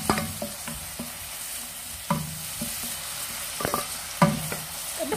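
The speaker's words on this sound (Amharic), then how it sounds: "ቀይ ሽንኩርታችን የከተፍነው እና ነጭ ሽንኩርት ከተፍነው ደግሞ ግማሹን አድርገን አንድ ላይ ጥብስ እናደርጋለን።" Chopped red onion and garlic frying together in oil, a soft continuous sizzle broken by several sharp clacks and scrapes of stirring at irregular intervals, close and fairly quiet, with no talking.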